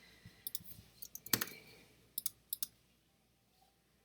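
Computer mouse clicks while building a checkout form in an online tool, a string of sharp, close clicks, some in quick pairs, spread over a few seconds in a quiet room.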